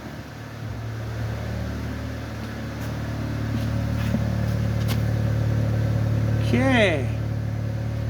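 A 1997 Honda Accord engine idles steadily at the exhaust, a constant low hum with a brief rising whine near the end, while a voice briefly speaks over it.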